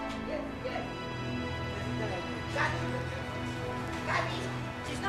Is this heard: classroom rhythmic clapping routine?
no